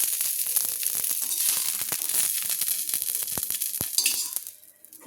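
Cauliflower florets frying in hot oil give a steady, dense sizzle, with sharp clinks and scrapes as a slotted spoon lifts them from the pan. Near the end the sizzle drops off.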